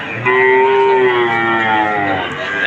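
A cow at a cattle market in Notunhat, Joypurhat gives one long, loud, close moo lasting over two seconds, with faint market bustle beneath.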